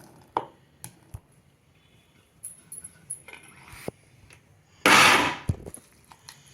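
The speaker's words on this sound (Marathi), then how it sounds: "स्वीटकॉर्नचे दाणे ओबडधोबड बारीक करून घेणार आहे" Steamed sweet corn kernels being coarsely crushed, with scattered close knocks and clatters, then a single loud rushing burst of about half a second, followed by a few quieter taps.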